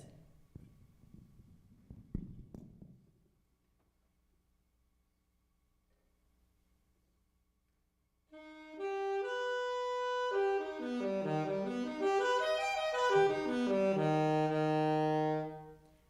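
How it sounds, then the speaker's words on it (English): After a brief rustle and a pause, a sustained augmented triad rings out on a keyboard, its notes shifting with a wavering, slightly tense tone. "That's going to create what we call an augmented triad"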